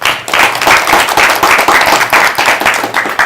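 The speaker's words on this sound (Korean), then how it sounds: "수고해주신 대표님께 큰 박수 부탁드립니다" Loud audience applause at a career-mentoring talk for an Intel Korea executive, many hands clapping in a fast, even, sustained patter close by.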